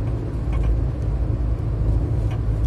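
A car cruising along highway BR 251 in Brazil, with a steady, loud low road rumble and engine drone throughout and no talk.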